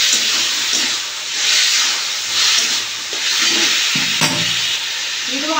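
Tamarind water poured into taro greens (kochu shak) cooking in a pan sets off a steady broadband sizzle and hiss that swells and eases, with a few brief clinks of a utensil near the end.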